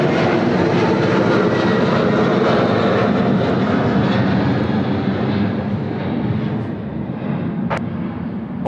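A United airliner roars down the runway on takeoff at Sydney Airport, a loud, steady engine rumble heard up close that fades slightly as it climbs away.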